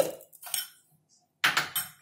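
A spoon clinks against a glass or steel vessel while a spoonful of sugar goes in for a biscuit shake: a few short, bright metallic taps in two bursts with a quiet gap between, close by, no talk.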